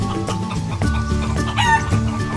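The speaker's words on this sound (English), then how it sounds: "More roosters." Roosters with other farm fowl, crowing loudly and close amid steady clucking and squawking, several birds overlapping in a continuous chorus.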